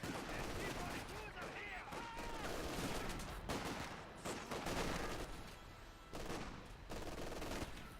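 A captured Vickers machine gun fires in a tank combat video game, with continuous rapid gunfire and explosive bursts filling the whole stretch, dense and loud throughout.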